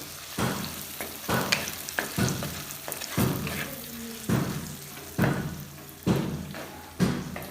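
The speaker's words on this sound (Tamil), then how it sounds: "கிளறி விட்டுக்கலாம்." Curry is stirred in a frying pan with bitter gourd, making repeated scraping, sloshing strokes roughly every second over a low sizzle, close up and without talk.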